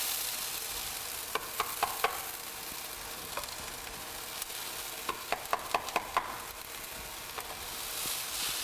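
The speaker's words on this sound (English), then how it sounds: "Now we're going to take and add our peppers." Peppers sizzle in a pan with a little extra virgin olive oil, giving a steady broad frying hiss with scattered sharp pops and crackles, including a quick cluster of spits midway, close and with no talking.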